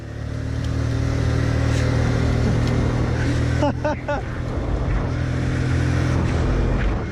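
A 100cc motorcycle engine runs at full throttle with a loud, steady drone and whining harmonics, with someone talking briefly over it midway.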